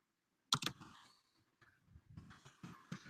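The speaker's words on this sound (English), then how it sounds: "Typing a little message here." Keys on a computer keyboard clatter in short uneven bursts of clicks with pauses between them, quiet and close, with no talking over them.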